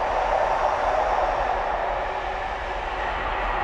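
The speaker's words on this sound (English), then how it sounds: "Freight train." A Tesco freight train rolls past as a steady, loud, continuous rumble with a broad wash of rail noise that holds evenly for the whole stretch, with no talking.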